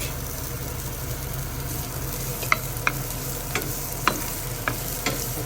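Fifty grams of ginger fries in hot oil for balbacua, a steady low sizzle with a few soft clicks and taps from stirring in the second half.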